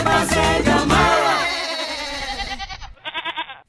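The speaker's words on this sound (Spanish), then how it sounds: "Yo tenía una cabra, yo tenía una cabra, Pepa se llamaba." A goat's bleat in a Latin folk song, with a loud wavering, quavering cry over the music at first, then rapid stuttering bleats that fade into quieter pulses.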